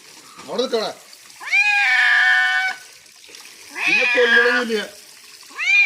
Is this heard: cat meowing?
yes